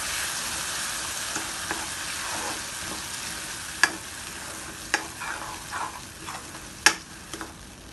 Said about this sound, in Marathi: आणि छान प्रकारे मिक्स करून घेणार आहोत.